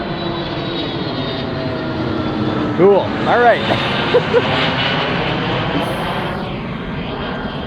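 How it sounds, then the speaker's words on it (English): A Delta passenger plane's engines roar steadily overhead, heard from inside a 2025 Lexus LX 700h Overtrail during a morning airport commute, with someone speaking briefly over the constant drone. "as a plane flies over, a Delta plane, look at that."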